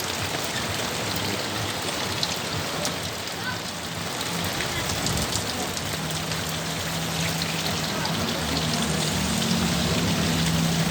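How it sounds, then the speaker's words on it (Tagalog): Heavy rain pours steadily in Canela City, a dense, even hiss of drops drumming on surfaces that continues without a break, with faint low murmurs underneath. "Malakas ang ulan dito."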